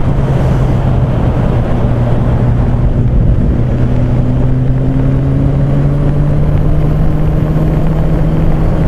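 A Yamaha XJR 1200 motorcycle engine running at a steady drone, its pitch rising slowly, heavily buffeted by wind noise as if recorded while riding, with no talk.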